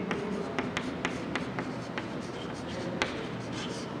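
A math solution for an octagonal surface area being written out by hand, pen or chalk scratching steadily with a series of sharp taps as strokes begin, close and clear with no talk.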